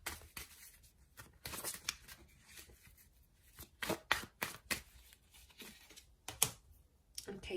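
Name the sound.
tarot cards being shuffled and drawn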